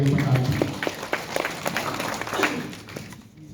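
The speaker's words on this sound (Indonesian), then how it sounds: "Mari Bapak kita berikan aplaus kepada Bapak dan Ibu yang berhasil" An audience at a Nabire district prosecutor's office gathering breaks into applause, a dense patter of clapping that is loud at first and thins out toward the end.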